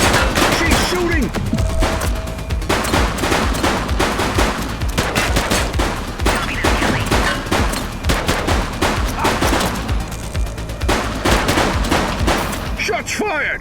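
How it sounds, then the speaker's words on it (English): Dense gunfire rattles through a video game shootout in The Precinct, rapid machine-gun bursts and overlapping shots cracking loud and near for over ten seconds, with brief shouted voices mixed in. "Shots fired!"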